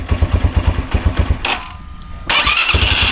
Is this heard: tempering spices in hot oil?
no